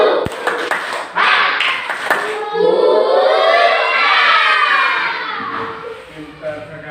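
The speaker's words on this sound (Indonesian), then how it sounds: "kita tepuk semangat dulu" Schoolchildren in a classroom perform a rhythmic spirit clap, a few sharp claps and taps followed by the class chanting together loudly in unison.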